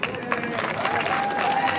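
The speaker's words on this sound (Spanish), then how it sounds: "Finalmente, entre aplausos, Nicolás Jarry gana este partido." A tennis crowd at Roland Garros applauds through the 2022 qualifying match won by Nicolás Jarry, sustained dense clapping at a steady level from start to finish.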